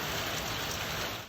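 Steady, dense rain falls on the ground and rooftops in Caboolture, a continuous loud hiss with no voices.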